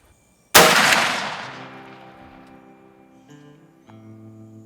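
A CVA Optima black powder rifle fires a single sharp, loud shot on a long-range shooting range. A long fading boom echoes out behind it into quiet.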